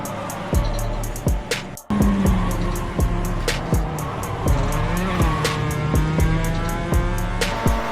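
Race cars in the iRacing sim racing game colliding during a race, with engines droning, a sharp impact, and tire squeal and skidding as cars scrape and slide, loud and continuous with repeated clicking transients.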